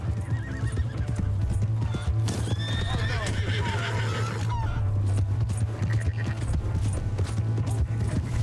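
Hooves clip-clop quickly while a horse whinnies in Red Dead Redemption 2, with creaking and clattering under it, a busy mix of galloping and noise.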